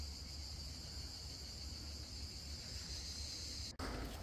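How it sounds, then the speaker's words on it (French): Cicadas sing in a continuous high, shrill buzz at a tent campsite along the Via Francigena, steady throughout with one brief break near the end. "on a réussi à poser nos tentes ici avec le chant des cigales"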